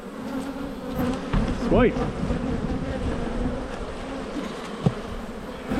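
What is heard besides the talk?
honey bees buzzing around opened beehive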